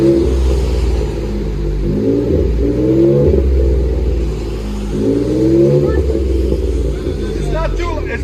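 Exhaust of a 2021 Ford F-150 PowerBoost hybrid fitted with a Black Widow Widowmaker exhaust, a deep, loud, close rumble rising in a few revs over a steady idle, with voices talking over it.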